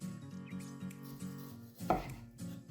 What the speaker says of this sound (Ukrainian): Треба його порізати на кусочки.